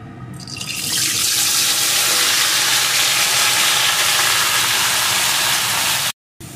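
Mixed vegetables drop into hot oil with panch phoron tempering spices, setting off a loud, bright, continuous sizzle that surges within the first second and holds steady until a sudden brief cutout near the end.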